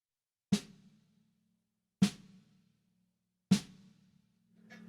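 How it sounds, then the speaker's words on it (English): Three soft drum-kit ghost notes, evenly spaced and quiet, each a short tap with a brief low ring, played alone at close range. "So a ghost note sounds like this."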